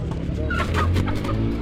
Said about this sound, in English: So we have a lot of hens here.